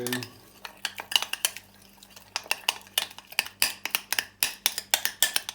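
A spoon knocks against a bowl in quick, sharp clinks while spices are mixed, starting with a few taps and then settling into a steady run of clear strikes at close range.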